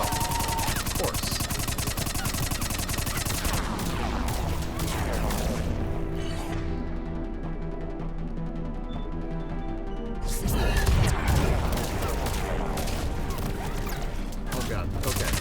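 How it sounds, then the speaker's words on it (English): Enemy gunfire in Mass Effect 3 combat: loud, continuous rapid shots and impacts, pausing briefly midway before resuming in heavy bursts with crashes. "What is shooting me?"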